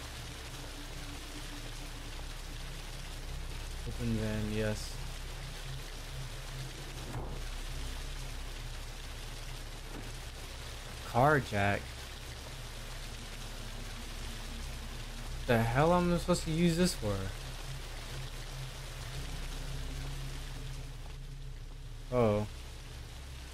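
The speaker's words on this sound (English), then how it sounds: "Ah, the raining's so loud." Constant heavy rain in a horror video game rushes steadily in the background, loud and unbroken, while someone talks over it in short bursts.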